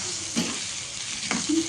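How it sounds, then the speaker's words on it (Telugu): Chopped onions with green chillies frying in hot oil for a tamarind-leaf dried prawn curry, a soft continuous sizzle with two brief stirring scrapes, fairly quiet and without speech. "ఆనియన్స్ ఫ్రై కావాలండి."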